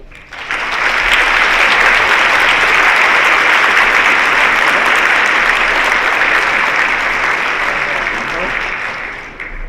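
A large audience at an annual meeting presidential forum breaks into loud, dense, sustained applause that swells quickly, holds steady for several seconds and then tapers slightly.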